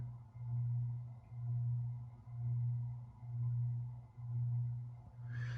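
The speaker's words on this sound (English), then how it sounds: "It's got a very audible bearing hiss." A 52-inch Encon Festival ceiling fan with a bearing fault gives a low, pulsing drone that swells and fades about once a second in a steady rhythm, quiet and close.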